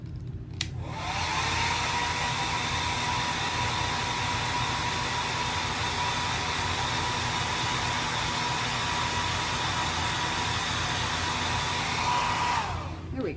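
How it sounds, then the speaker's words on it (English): A blow dryer blasts air over chalk paint, switching on abruptly and holding a loud, steady whooshing roar for about twelve seconds before cutting off. "I'm going to blow dry this because I want to add the letter"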